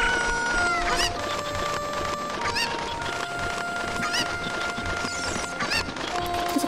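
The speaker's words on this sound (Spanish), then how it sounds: "Bueno, mi gallina." Chickens in The Legend of Zelda: Ocarina of Time cluck busily in repeated short squawks over a steady ambient bed. The calls are fairly loud and continuous, with no talking.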